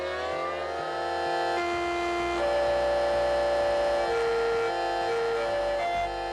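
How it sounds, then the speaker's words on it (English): A Yamaha music siren plays loud, steady electronic tones that step between pitches in a melodic pattern, with sustained wavering notes over a low droning hum throughout. "First is Yamaha music siren."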